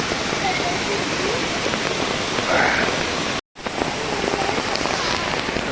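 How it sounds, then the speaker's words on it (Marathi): Heavy monsoon rain pours in the Konkan region during flooding, a loud, dense, continuous hiss of rain on surfaces and rushing water, broken only by a very brief dropout midway. "जबरदस्त पाऊस पडतोय आणि जबरदस्त पाणी बापरे"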